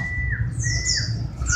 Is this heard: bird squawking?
yes